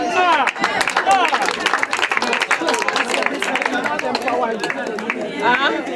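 Crowd at a political rally clapping and cheering, dense and continuous with overlapping voices shouting, loud and close throughout.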